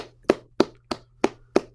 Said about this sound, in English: Give yourselves a round of applause for reading tonight.